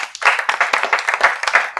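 An audience at a housing talk claps to vote, a brief burst of rhythmic, fairly loud applause with sharp individual claps.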